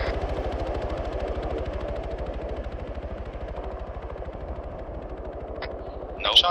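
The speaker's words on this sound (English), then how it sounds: "I hear big gunshots from the northwest, so watch out for armor." Sustained rapid automatic gunfire from the video game Arma 3, a dense continuous rattle of shots running throughout at steady loudness, with a couple of sharper bursts near the end.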